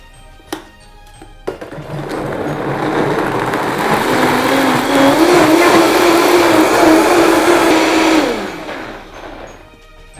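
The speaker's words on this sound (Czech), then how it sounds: "teď to důkladně promixujeme. Promixujeme to tak, aby to bylo úplně najemno" A blender whirs as it purees young coconut flesh into a yogurt base, switching on after two brief knocks and running loud and steady for about seven seconds before winding down, with no talking over it.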